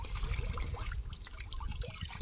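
Water trickles steadily at the lone spring that serves a village in Sitio Calachuchi, a close, continuous dribble with low gurgling running through the whole moment and no voices over it.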